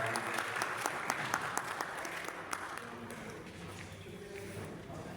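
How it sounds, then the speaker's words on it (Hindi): An audience at an Urdu poetry gathering of Dera Ghazi Khan poets claps in a quick crisp patter of close, sharp hand claps, steady throughout, with some voices faintly underneath. "तालियां"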